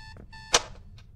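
An alarm clock rings in a horror video game, a quick run of bright, close electronic beeps broken by a sharp knock, alone without talk.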